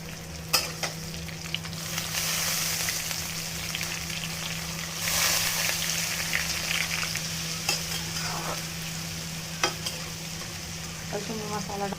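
Potatoes fry in a pan with a steady, even sizzle, marked by occasional clacks and scrapes of a stirring spoon against the metal, close and moderately loud with no talking.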